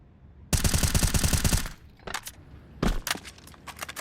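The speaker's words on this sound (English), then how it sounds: "One of the many wall bangs on the new version of Train." Counter-Strike gunfire on the Train map, shooting through a wall: a loud, rapid automatic burst of about a second, then scattered single and double shots with brief pauses, and no voices.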